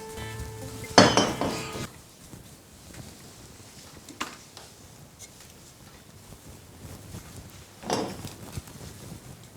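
Dishes and plates being fetched and handled in a home, with a loud clatter of crockery near the start, then quieter scattered clinks and knocks, a second clatter toward the end, and no talking.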